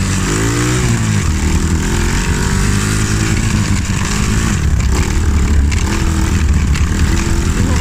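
A monkey bike motorcycle engine runs loud and close on the throttle, a steady buzzing drone with small rises and dips in pitch that continues throughout.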